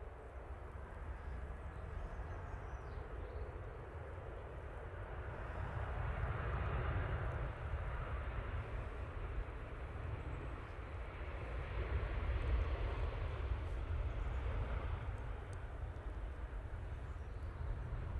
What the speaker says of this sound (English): Ryanair, coming in from Bratislava. He's in 737-800.